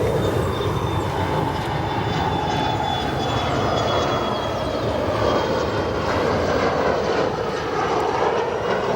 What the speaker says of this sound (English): we have Embraer 145 departing 28 right